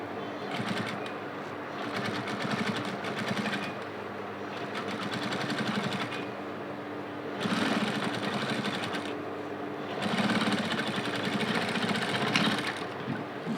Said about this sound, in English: Then you go on and sew the tip of it.